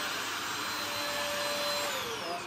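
A Tower TSC10 Aquajet Plus spot washer motor runs with a steady, close, high-pitched vacuum whine and a faint rising tone sweeping through, with no one talking.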